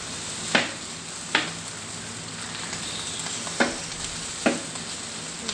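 Rice frying in oil on a Blackstone griddle gives a steady, close sizzle, broken by four or five sharp clicks of a spatula against the hot flat top.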